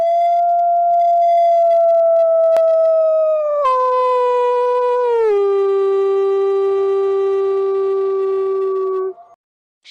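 A jackal howls in one long, sustained call that drops in pitch in a couple of steps before cutting off, loud and alone with no other sounds.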